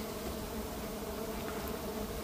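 Honey bees swarm and buzz steadily around an open hive in a building as honey is harvested, a dense continuous drone close by with no voices.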